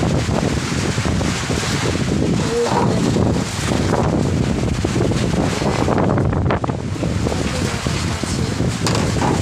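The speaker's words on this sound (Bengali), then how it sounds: "এক তুফান ঝড়ের সাথে বৃষ্টি হচ্ছে" Loud storm wind roars and buffets the microphone without pause, a harsh, gusty rumble carrying falling rain within it.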